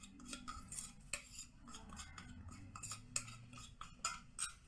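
A spoon scrapes and clinks against a pot while coconut rice and beans ingredients are mixed, irregular metallic taps and stirring scrapes, quiet and close.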